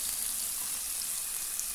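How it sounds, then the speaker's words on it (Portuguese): Onion and garlic frying together in a pan, a steady close hiss and crackle of sizzling oil with no break and no voices. "Agora eu tô pondo aqui a cebola, né? A cebola e o alho."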